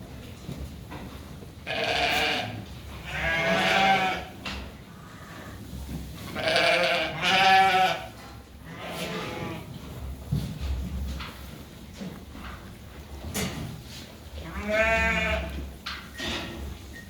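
Several sheep bleat repeatedly at moderate distance while feeding, their calls rising and falling over a low background of shuffling and munching of green-cut wheat.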